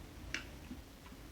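A single sharp wooden tick from a stick, followed by a couple of fainter taps, quiet and close with no talking.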